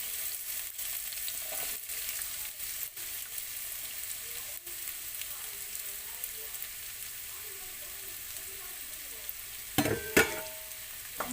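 Finely chopped onion frying in three tablespoons of oil in a wok, a soft, steady crackle and sizzle with a few louder clatters near the end.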